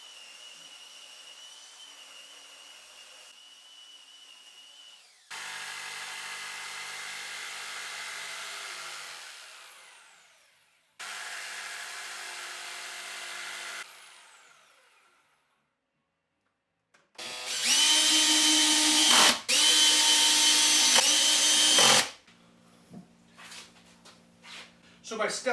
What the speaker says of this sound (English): so I'll do it with my cordless drill